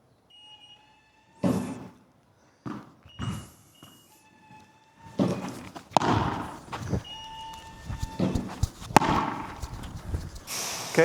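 On a padel court, a tennis ball machine fires balls in separated pops and thumps, with irregular impacts and bounces following at moderate distance; a faint high tone sits in the background.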